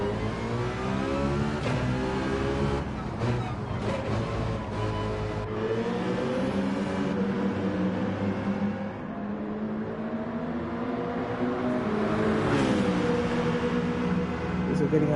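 Race car engine in Gran Turismo 7 at Watkins Glen, droning steadily as the car pulls out of the pits, with rising and falling rev pitch and occasional gear changes.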